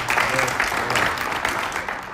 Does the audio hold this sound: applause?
yes